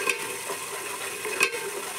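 Green chilies and cumin seeds fry in a pan with a soft, steady sizzle, broken by a couple of brief stirring scrapes.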